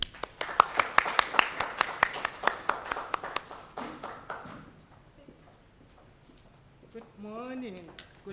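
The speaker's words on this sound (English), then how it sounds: "Please join me in giving me a warm welcome and a big round of applause to her." Scattered audience clapping welcomes a speaker at a conference session at Wits University, Johannesburg: distinct individual claps that thin out after a few seconds, followed by near silence and then a voice speaking.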